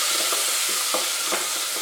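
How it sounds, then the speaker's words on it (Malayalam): Chopped onion sautés in a pan for Malabar-style beef rice, giving a dense, steady sizzle broken by soft stirring scrapes at a loose rhythm, up close. "എന്നിട്ട് ഇതൊന്ന് ബ്രൗൺ കളർ ആവുന്നത് വരെ നമുക്ക് ഒന്ന് സോട്ട് ചെയ്തെടുക്കണം"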